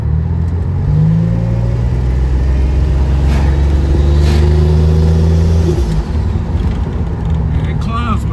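A Buick Grand National's engine pulls hard under boost during a fuel pressure check, its rising drone swelling and sweeping upward over several seconds before easing off, with someone talking over it.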